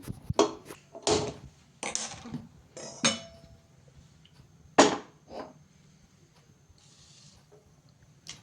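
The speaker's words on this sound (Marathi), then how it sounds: "आणि आता कुकर लावून मी हा कुकर" A pressure cooker holding hard wheat or chickpeas with salt and oil is set on a gas stove, giving several sharp, close metallic clanks and thumps spaced a second or so apart, then quieter rattling.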